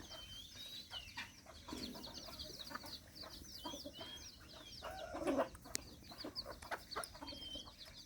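Chickens cluck and chatter softly at a distance amid outdoor background noise, with a few louder squawks and calls mixed in.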